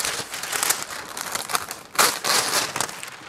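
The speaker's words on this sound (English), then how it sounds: "Just need to cover it with parchment paper." Parchment paper crinkles and rustles continuously while being pressed into a baking pan for brownies, with sharper crackling bursts partway through. It sounds close and busy, with no one speaking.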